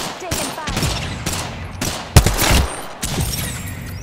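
Gunfire in the battle royale video game Apex Legends: several loud bursts and rapid volleys of shots, with a sharp heavy blast near the middle, over a constant game background.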